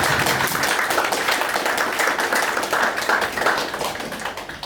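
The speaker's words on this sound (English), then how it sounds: "let's have a round of applause for all the kitchen staff that prepared that amazing food" A round of applause for the kitchen staff at a memorial brunch gathering. Many hands clap at close range, with clear individual claps in a steady patter that thins slightly toward the end.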